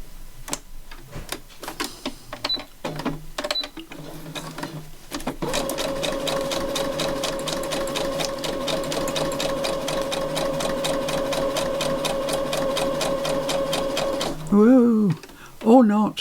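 Sewing machine stitching through a mini notebook folio of paper and distress-painted collage, a steady fast run of needle clicks lasting about nine seconds after a few short bursts, then a brief stop as a voice speaks.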